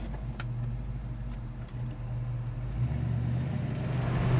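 A 1967 Ford Mustang's engine hums steadily from inside the cabin while driving, a low droning note that swells slightly as the car picks up speed.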